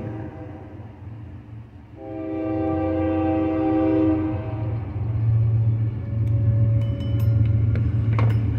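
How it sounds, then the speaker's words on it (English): A train rolls past with a steady low rumble that swells and holds, while a loud sustained horn blast sounds partway through, followed by rattling wagon noise near the end. "Got a train coming again, guys."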